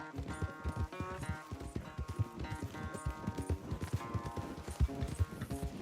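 Horse hooves gallop in a fast, steady clip-clop rhythm during a race on horseback in Red Dead Redemption 2, with game music playing underneath.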